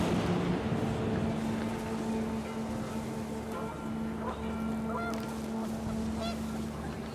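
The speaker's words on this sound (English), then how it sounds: "The wind picked up, and panicked geese appeared and quickly went." Panicked geese honk in What Remains of Edith Finch, their calls rising over a steady windy backdrop with a low droning tone, scattered honks clustering in the latter half.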